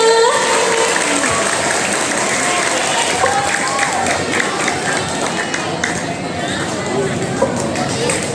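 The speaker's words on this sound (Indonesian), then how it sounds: "Berikan tepuk tangan yang meriah" A large audience claps loudly and steadily at a school entrepreneurship workshop, a dense continuous wash of applause with crowd murmur underneath.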